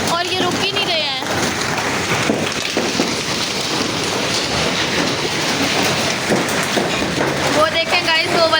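Heavy hail pelts a car in a hailstorm, a dense, continuous hammering clatter close by that runs for the whole stretch without letting up, with talk mixed in at moments.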